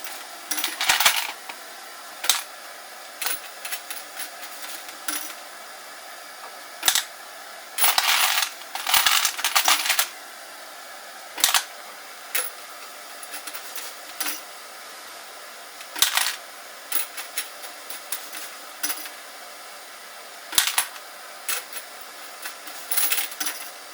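Brass cartridge cases drop through an Annealeez 2.0 annealer after wet tumbling, giving sharp metallic clinks that arrive singly and in quick clusters at irregular intervals over a low background hum, with no talk.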